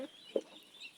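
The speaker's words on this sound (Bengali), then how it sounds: "মুরগি একটা সাথে থাকে সব সময়" A hen clucks near young ducklings at a backyard duck-rearing spot, giving one short, sharp cluck close by, with softer fowl calls before it and in the quiet background.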